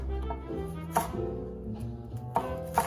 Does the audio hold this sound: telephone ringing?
no